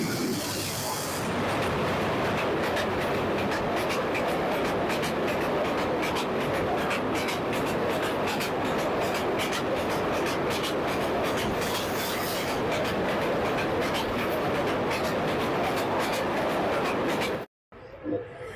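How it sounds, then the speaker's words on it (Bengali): A fast train crossing the Ghorashal railway bridge, coming from the Dhaka side, roars loudly and steadily with dense rumble and rattling for about seventeen seconds, then cuts off abruptly. "ঢাকার দিক থেকে একটি ট্রেন দ্রুতগতিতে চলে আসছে"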